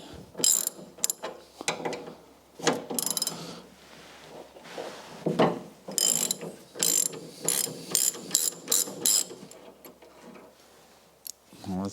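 Ratchet undoing bolts on the steering column of a Formula Konick race car, with quick bursts of clicking strokes separated by pauses and faint handling noises nearby.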